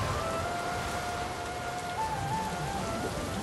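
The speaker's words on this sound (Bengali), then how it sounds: "কচু পাতার ছাউনির ওপর পড়া বৃষ্টির শব্দ শুনতে শুনতে তারা ঘুমিয়ে পড়ে" Rain falls steadily on a thatched roof of taro leaves, a dense even hiss throughout with a faint sustained tone running underneath.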